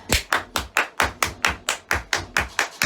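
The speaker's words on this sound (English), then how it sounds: "Now clap." Hands clap in a steady, even rhythm, about a dozen sharp, close claps spaced roughly a quarter second apart, with no voices over them.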